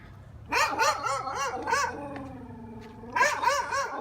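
A nearby dog barks in a rapid burst of several loud barks, pauses with a whine, then barks again.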